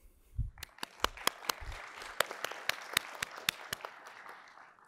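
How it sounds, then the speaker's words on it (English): A conference audience applauds after a talk, a light patter of clapping with a few sharp, distinct claps standing out at close range, moderately quiet overall. "So don't clap for me, clap for them."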